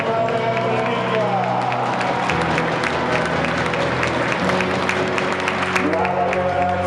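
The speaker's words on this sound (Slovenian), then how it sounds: "Še enkrat velik aplavz za drugo ekipo Novega Vedranika" An audience at a volleyball award ceremony claps for the second-place team, a loud, lively patter of many hands with some cheering, while people talk over it.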